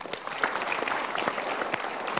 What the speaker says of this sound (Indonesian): Kita berikan tepuk tangan.